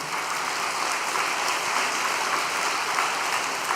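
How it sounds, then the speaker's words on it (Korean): Steady applause from a church congregation at an overnight prayer gathering, a dense continuous wash of clapping throughout with no voices. "우리 식구님들의 힘찬 격려의 박수 한번 부탁드리겠습니다."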